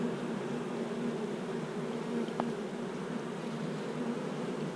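Honey bees in an open hive hum in a soft, steady drone close by, a low continuous buzz with no voices over it.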